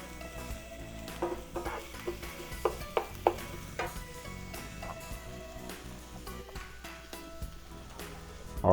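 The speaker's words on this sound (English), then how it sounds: "Make sure our onions are being stirred, caramelizing very nicely in the pan." Onions caramelizing in a pan for a wagyu ribeye Philly cheesesteak, with a steady sizzle and scattered scraping clinks of stirring that peak in a few sharp taps, close and alone.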